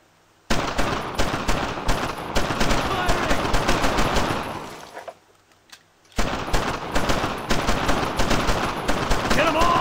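Loud, dense automatic gunfire in the World War II shooter game Brothers in Arms rattles continuously, breaks off for about a second, then resumes just as heavily.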